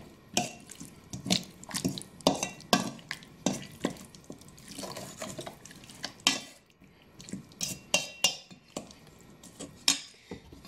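A spoon clatters and scrapes against a pan as chicken is stirred with a little sugar, a string of sharp, close clinks and knocks in an uneven rhythm with brief pauses between strokes.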